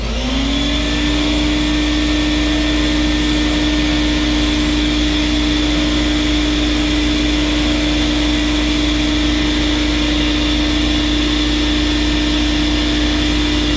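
A Tristar CXL two-speed vacuum cleaner runs on its high setting with the power nozzle attached, giving a loud, steady whine and airy rush that holds unbroken throughout.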